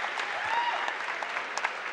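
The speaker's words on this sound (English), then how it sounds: "Getting applause from the fans" Fans at a women's college basketball game between UCCS and New Mexico Highlands applaud after a player's ejection, a brief, steady patter of clapping in the arena with a voice faintly underneath.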